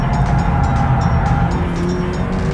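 A rally car slides under braking on a loose surface, its engine droning loudly up close with gritty tire and gravel noise throughout, no voices over it.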